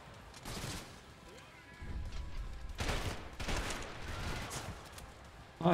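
Gunfire in the video game Trepang2, bursts of automatic shots in a few loud clusters over a quieter background, ending with a sharp hit.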